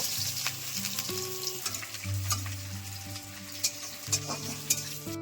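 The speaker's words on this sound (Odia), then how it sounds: "ଏବେ ପଡ଼ିଲା ତେଜପତ୍ର, ତାପରେ ପଡ଼ିଲା ପିଆଜ।" Bay leaves and onions fry in a pan of hot oil for a spiced pea curry, giving a steady close sizzle with occasional stirring scrapes and a few sharper crackles.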